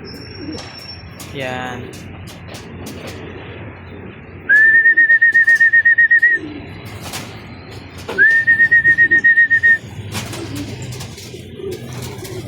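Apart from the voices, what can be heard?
homing pigeons cooing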